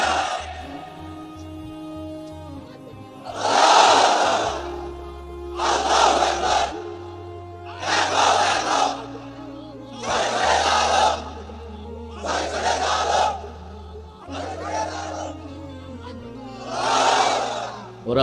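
A large crowd chants the takbir slogan in repeated loud bursts of massed voices, about seven of them in steady rhythm, each answering a call at a religious sermon gathering.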